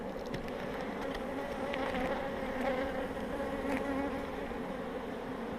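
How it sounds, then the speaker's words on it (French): Honeybees pour out of an opened hive during a spring inspection, a dense steady buzzing swarm close by with a few louder individual bees passing, and no talking. "on voit les abeilles qui débordent là"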